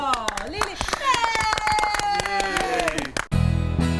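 Hands clapping in quick repeated applause, a steady run of sharp close claps layered under cheerful voices talking and a child's high-pitched speech.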